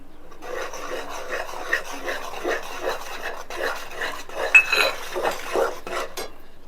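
Flour is stirred into water in a pot, steady rhythmic rasping and scraping of a utensil against the pot with occasional knocks, close and fairly loud, with no speech.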